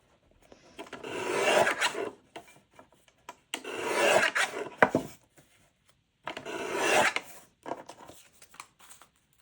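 Fabric scrap strips being trimmed down for quilted cards and tags: three longer bursts of rasping, rubbing cuts with short gaps between, close and fairly quiet, with a few small handling clicks afterward.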